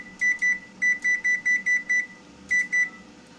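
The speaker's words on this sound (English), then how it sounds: "Set the timer." A kitchen timer gives quick, bright electronic beeps as its buttons are pressed, a string of short evenly spaced tones followed by a brief pause and two more beeps, close and clear in a quiet kitchen.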